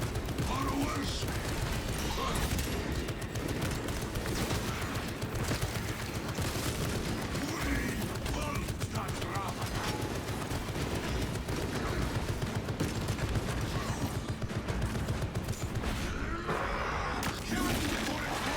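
A Techmarine's servo gun in a Warhammer 40,000 Space Marine video game blasts away in dense, continuous volleys amid clanking mechanisms and battle chaos, loud and close throughout, with some talk mixed in.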